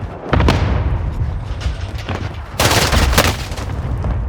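Cluster strike explosions in Call of Duty on Rebirth Island, a loud rolling barrage of booms and blasts that swells again near the end, with no talk over it.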